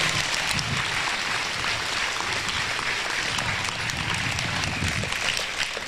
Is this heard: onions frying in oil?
no